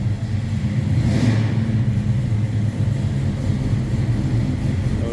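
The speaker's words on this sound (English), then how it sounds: "We're moving one around in our indoor showroom, so you're going to hear a little bit of rumbling go by." A Chevrolet Bel Air Nomad rumbles past inside an indoor car showroom, a steady low engine drone that swells and carries through the full stretch with no talking.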